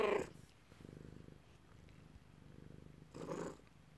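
A house cat purrs close by in a steady, rhythmic low rumble, with a few brief louder rustling bursts at the start and near the end.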